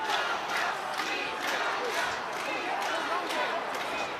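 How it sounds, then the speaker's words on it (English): A rugby crowd at an under-20 Six Nations match between Italy and Scotland roars and chants steadily in broad, rhythmic surges, with a commentator talking over it. "The crowd are in fine fettle"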